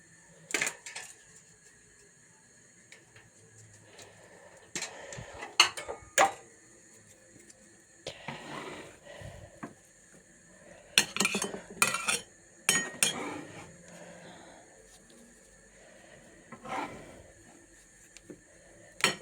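Homemade pumpkin candies set one by one onto a plate, giving scattered light clinks and taps of sweets and utensils against the dish, with quiet gaps in between.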